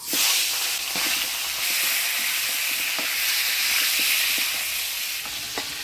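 A catla fish head fries in hot oil, giving a steady loud sizzle and hiss with occasional stirring clicks, close up and with no talking.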